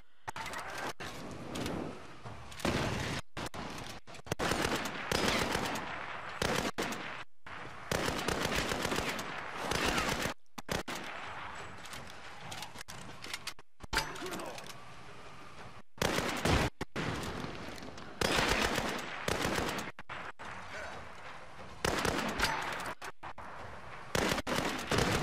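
Gunfire in Tomb Raider cracks out in rapid bursts and single shots, sharp and fairly near, with short pauses between volleys over low game ambience.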